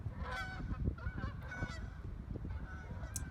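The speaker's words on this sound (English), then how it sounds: "Geese going by." Geese honk repeatedly as they fly past a golf course, a steady run of overlapping calls at moderate distance over outdoor background noise.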